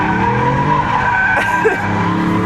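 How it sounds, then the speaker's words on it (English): A 2026 Dodge Charger Sixpack with a twin turbo inline 6 accelerates hard in rear drive, a loud, steady howling engine note that climbs through the revs, with a brief tire squeal. "All right, so first acceleration in that twin turbo inline 6."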